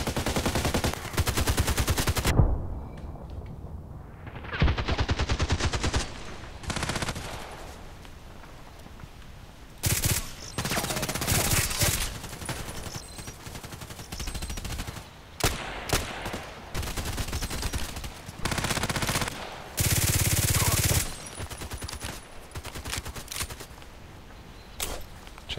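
Glock pistol fire in a long-range shooting video game, loud sharp shots recurring in separate bursts, some single and some clustered, with no talking.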